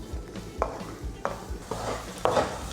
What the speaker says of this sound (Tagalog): Dadahan-dahanin lang natin ang pagluto dito sa bawang para sigurado tayo na pati yung kaloob-looban lutong-luto.